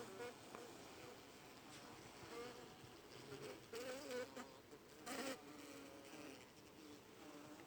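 Continuous droning buzz of many bees around a hive, fairly faint and steady, with slight swells in intensity.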